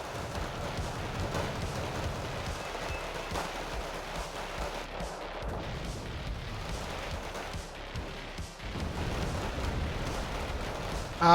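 Grenade launcher blasts and gunfire from BMP-1 vehicles in the Wargame: Red Dragon strategy game thud and rumble in repeated muffled bursts over a steady low battle din, at moderate distance.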